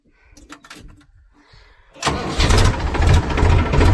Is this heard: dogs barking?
no